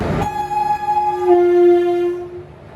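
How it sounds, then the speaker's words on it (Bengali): The Howrah–Jabalpur Express horn blares in long, steady tones close by at Bardhaman Junction station at night, holding for a couple of seconds before fading with the rumble of the train arriving at the platform. "Train number 13071 up Howrah, Jabalpur Express is arriving on platform number 1."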